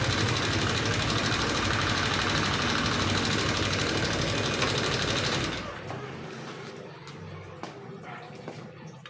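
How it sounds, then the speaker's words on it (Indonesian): Honda Vario 125 scooter, 2018, with a rough, rattling engine, a close, loud and busy mechanical chatter for about five seconds, then a quieter background with faint knocks. "motornya terasa suaranya gelitik-gelitik"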